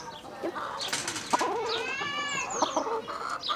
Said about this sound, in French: Nous avons aussi cette petite poule qui a sa maman, qui est comme elle mais brune